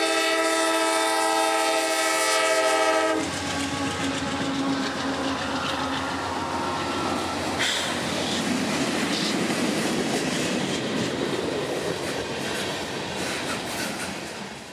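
A CSX freight train led by two GE wide-cab locomotives sounds a loud, sustained multi-chime horn. The horn cuts off and gives way to the heavy rumble and clatter of cars rolling past close by, which slowly fades.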